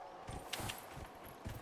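Horse hooves clip-clopping in the game Dragon Age Inquisition, a few soft, irregular low thuds at a walking pace, moderately near with faint background ambience.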